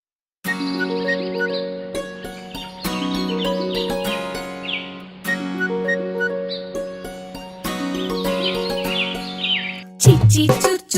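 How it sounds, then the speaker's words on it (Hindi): Chirpy bird calls mixed into a bright children's song, repeating high tweets over steady tinkling, bell-like music throughout, with a louder jingling burst near the end. "चींची चुर चुर करती चिड़िया"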